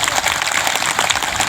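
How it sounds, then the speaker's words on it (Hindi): A group claps hands together at a Sarna gathering, a brief dense burst of steady applause with no talk over it. "एक बार ताली का बजाना।"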